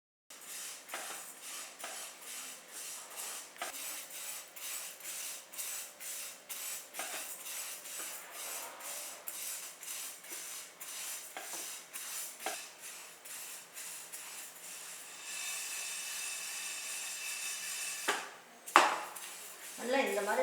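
Moong dal roasting in a pan, with dry scraping and clinking from a utensil stirring it in steady repeated strokes, close and moderately loud, and a brief sharper clatter near the end.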